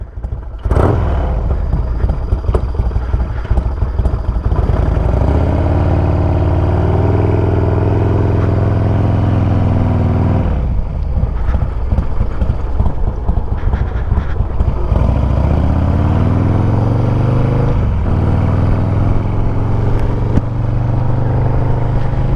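A 1991 Harley-Davidson FXR motorcycle engine running close by, with a low, loping idle broken by a few rising revs and gear-driven acceleration swells before settling back to a steady rumble.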